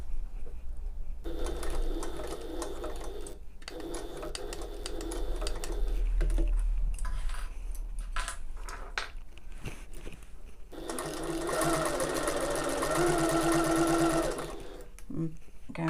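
Stitching a tote bag, a sewing machine runs in several separate bursts with pauses between them, the longest run near the end. Soft clicks and fabric handling fill the gaps.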